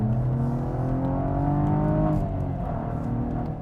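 The turbocharged V6 engine of a 2016 Cadillac ATS-V pulls hard under acceleration, a loud, steady, rising growl with layered harmonics that holds for several seconds before easing slightly at the end.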